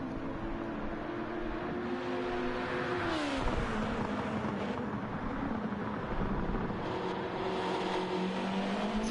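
GT race cars in a sim racing game, South African GT World Challenge at Grand Valley Highway 1, give a steady, close engine drone that drops in pitch partway through, then climbs again as the cars keep racing.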